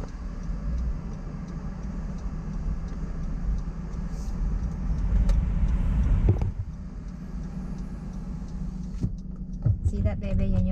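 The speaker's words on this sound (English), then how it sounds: "that's the double-decker bus, like a tourist bus." Manhattan street traffic rumbles steadily as a double-decker tourist bus passes close by, its engine swelling then fading, with a few ticks and clatters over the constant city drone.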